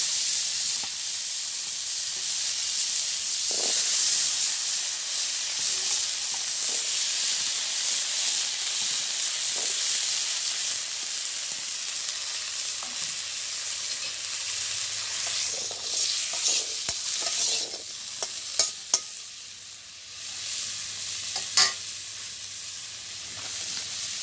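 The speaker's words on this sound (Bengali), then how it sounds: "ডিম ভেজে তেল রয়েছে কড়াইতে আর তেল দেবো না পরে দেবো তো এই তেলের ভিতরে দিয়ে দেবো কুমড়ো মিষ্টি কুমড়ো" Sweet pumpkin pieces frying in oil left over from frying eggs in a wok, giving a continuous close sizzle and hiss with occasional scraping stirs and brief crackles, no voices.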